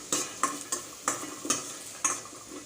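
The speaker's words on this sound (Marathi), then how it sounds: "आता हे छान असं आपण फ्राय करून घेऊया मंद आचेवर" Onion, peanuts and dry coconut frying over a low flame, with a steady soft sizzle and several sharp scrapes of a spoon stirring against the pan.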